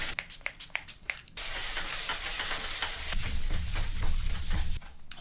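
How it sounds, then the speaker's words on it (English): Wet sanding a surfboard by hand produces a steady, close, hissing scrub, starting with a few short strokes, then settling into continuous rasping that grows coarser and louder before stopping abruptly. "and then you just sand. You want to be able to hear it. You can hear it."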